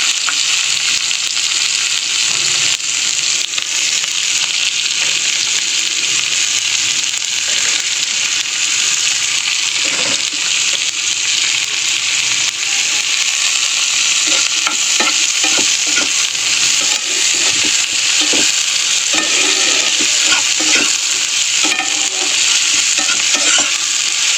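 Chopped onion fries with black cumin seeds in hot oil, giving a loud, continuous sizzle with occasional scraping stirs and crackles throughout, and no voices.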